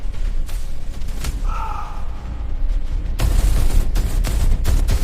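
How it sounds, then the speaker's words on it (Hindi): Gunfire rings out inside a warehouse in an animated war film, a few sharp reports and bursts spread over the clip against a dense, rumbling background of booming action. "भीतर घुसते ही गोलियां गूंज उठी"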